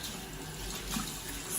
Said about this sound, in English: So I'm just gonna put the water on a nice warm temperature